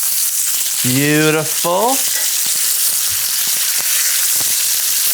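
Thick steaks sizzle and fry loudly and steadily in a hot pan right after flipping, with a brief spoken word early on over the constant searing hiss.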